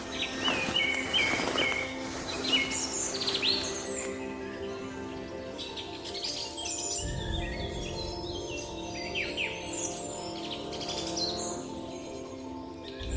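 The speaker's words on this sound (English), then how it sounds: "the treetops echo with the calls of monkeys and the chirping of forest birds" Forest birds chirp and call through the Amazon rainforest canopy, a dense layered chorus of high tweets and trills over a steady insect-like hum, fairly close and continuous throughout.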